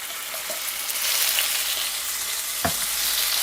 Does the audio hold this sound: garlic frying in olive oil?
yes